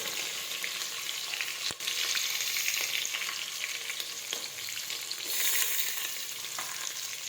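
Chopped chillies and ginger sizzling in hot oil with mustard seeds, cumin and curry leaves, a dense steady crackle close up with occasional sharp pops and a swell of hissing toward the end.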